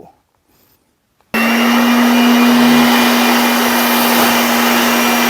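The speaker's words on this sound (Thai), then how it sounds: "อันนี้ครับเป่าเพื่อทำความสะอาดในช่องพวกนี้นะครับ" An air blower starts abruptly after a short near-silence and runs as a loud, steady, close rushing hiss with a constant whine, cleaning dust out of the compartments inside a cabinet.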